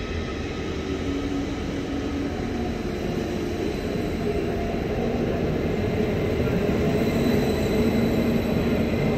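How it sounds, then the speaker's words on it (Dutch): A DB Stadler Flirt 3 electric multiple unit rolls into a station, a loud continuous rumble of wheels and motors building steadily with faint squeal tones, no voices heard. "Terwijl we aan het ontbijt zaten, kwam de trein binnen. Een Flirt 3 van de DB."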